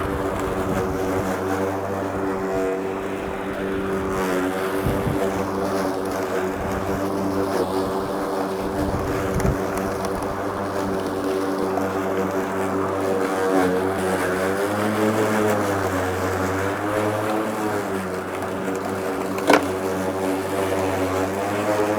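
A cordless 36V Ryobi lawn mower cuts grass with a continuous, close, steady motor drone and blade whir, its pitch wavering slightly as it moves through the lawn.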